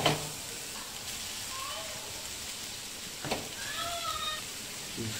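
Green chillies and onion frying in a pan for egg masala curry give off a steady, fairly faint sizzle with a couple of soft stirring knocks and faint chirps over it.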